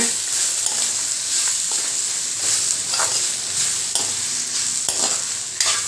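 Grated coconut stirred into ridge gourd peel frying in a pan for a chutney, a steady close sizzle with scraping spoon strokes and soft scuffs through the whole stretch.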